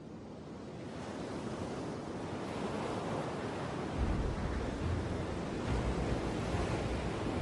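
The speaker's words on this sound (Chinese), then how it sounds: "挺进的潮水遇到障碍后被反射折回，然后翻卷回头" Tidal bore waves on the Qiantang River rolling back after reflecting off a river dike, a broad continuous roar of churning surf that swells louder partway through, with wind noise over it and no speech.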